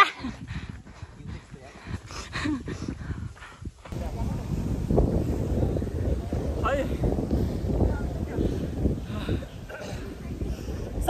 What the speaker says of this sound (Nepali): हावा मिठो लाग्यो